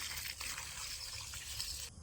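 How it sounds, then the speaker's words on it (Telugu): Water poured around the base of a freshly planted Raja Banginapalli mango tree, a soft continuous gushing splash, faint and steady, ending abruptly. "చెట్టు వేసిన తర్వాత ఈ విధంగా వాటర్ అని పోయాలండి చుట్టూ"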